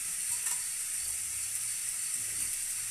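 A steady, close sizzle of snake gourd and cumin seeds frying in a hot pan, a soft continuous hiss with faint stirring noises.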